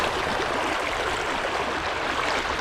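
Fast-flowing water of a wild trout stream rushes in a steady, even hiss, close and continuous without pauses, with no voices.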